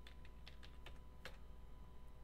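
A handful of quiet computer keyboard keystrokes tapped in an irregular burst, with one sharper keypress standing out near the middle, all soft and close against low background hum; no talking.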